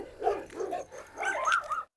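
A pit bull and a Cane Corso bark in a few quick, fairly faint yips and woofs over roughly two seconds.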